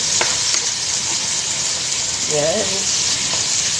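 Tomatoes with egg frying in a pan, giving a loud, steady sizzle throughout, with a brief word spoken over it.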